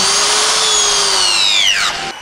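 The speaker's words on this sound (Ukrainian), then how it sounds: "Мені сподобався перфоратор там," A hammer drill runs in a school workshop with a loud, steady high whine that holds for about two seconds, then drops in pitch and winds down near the end, with no voices.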